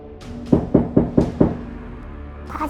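Persistent knocking on an apartment door: five firm, evenly spaced knocks land in quick succession, loud and close, followed by a pause and a faint noise at the end.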